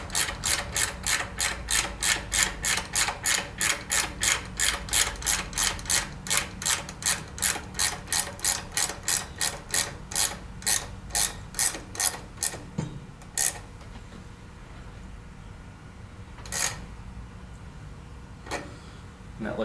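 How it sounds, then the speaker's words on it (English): A hand ratchet tightens a nut on a Ford 4000 row-crop tractor during steering installation, clicking in a steady rhythm of many close, crisp strokes for about twelve seconds before stopping, with a few stray clicks afterward. "So I'm going to go ahead and just tighten this nut up some."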